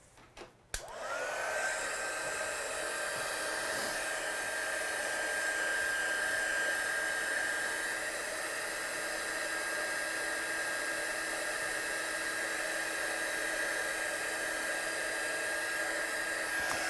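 A hair dryer drying a watercolour painting starts with a click and then runs as a steady, continuous whirring drone at close range for the rest of the stretch, with no talking.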